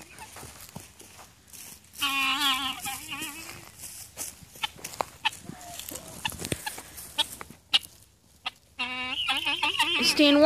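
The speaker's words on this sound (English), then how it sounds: "Go see the chickens." Backyard chickens and a guinea fowl give intermittent clucks and squawks at close range, with a louder burst of calls near the end, mixed with footsteps and brief speech.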